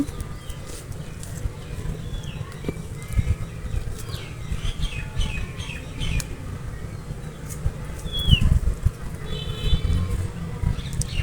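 Birds chirp and call sporadically outdoors, short bright tweets scattered over a steady low background rumble, moderately faint.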